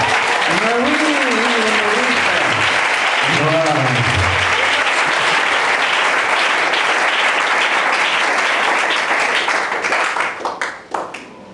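Loud, continuous applause from a congregation fills a church service, steady and dense for most of the stretch before tapering off near the end, with a voice speaking over the clapping at the start.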